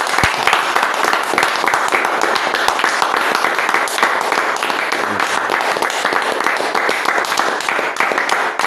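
Sustained applause from a congregation at a revival church assembly in Ndiengdam, a thick, even wash of many hands clapping at full volume from start to finish, with no voices standing out.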